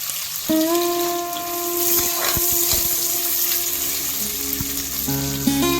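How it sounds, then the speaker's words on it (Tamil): Chopped onions dropped into hot oil with fried whole spices for coconut milk biryani, a loud close bubbling sizzle that runs continuously, with a sustained tonal hum underneath and brief clatter. "இதுல நம்ம கட் பண்ணி வச்சிருக்க வெங்காயத்தை ஆட் பண்ணிக்கலாம்."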